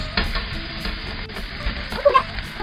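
Onion, peppers and courgettes go into a hot pan for a courgette soup, a close, steady sizzle with stirring scrapes and a brief louder burst near the end.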